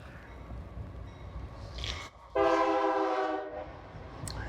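A long freight train rolls past nearby with a loud, sustained horn blast rising over the rumble, the horn cutting in sharply after a brief lull, with no talk.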